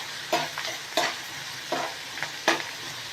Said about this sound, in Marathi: आता हा कांदा आपल्याला दोन तीन मिनटं परतून घेते कांदा चांगला परतून घ्यायचा